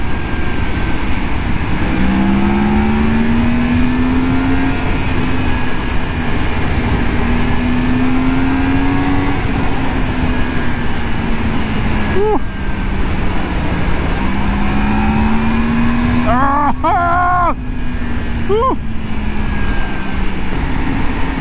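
A Yamaha MT10 motorcycle accelerates hard on open road, its engine note rising and falling through repeated throttle pulls and gear changes, loud and close over constant wind roar.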